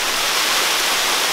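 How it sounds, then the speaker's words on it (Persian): A waterfall in a remote rocky spot near Qamsar, its water pouring in a dense, steady hiss that stays loud and unbroken for the whole stretch, with no voices. "آبشار خیلی قشنگ."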